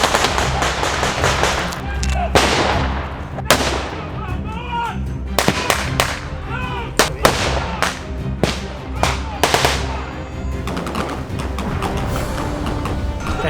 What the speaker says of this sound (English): we suddenly found ourselves in the middle of a battle reenactment